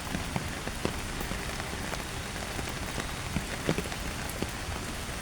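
Steady rain on a rainy Monday morning, a constant close hiss with scattered louder drops tapping on a surface and no voices.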